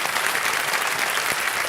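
A studio audience on the Kaun Banega Crorepati game show set gives loud, sustained applause, a dense wash of many hands clapping throughout with no speech heard over it.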